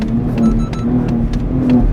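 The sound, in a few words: accelerator pedal clicking in a BMW X3 M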